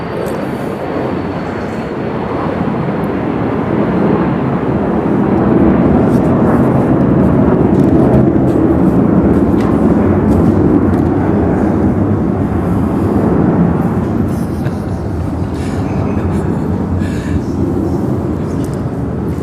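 A train rumbles past, a broad, loud, steady roar with low rolling noise that swells in the middle and stays constant throughout, with no whistle standing out.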